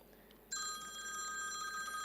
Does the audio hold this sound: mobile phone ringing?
yes